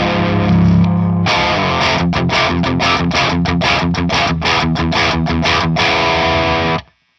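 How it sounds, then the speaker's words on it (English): Crunchy overdriven electric guitar through an inexpensive practice amp on its crunch channel: a held distorted chord, then a run of rhythmic strummed chords with sharp choppy attacks, loud and close, no voices. "this is a crunch tone"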